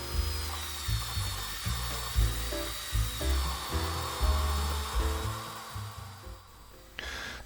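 A 1.5 mm drill forced through a crank pin while building the return crank of a live steam locomotive: a gritty mechanical grinding with uneven, labored pulses, close up and without talk.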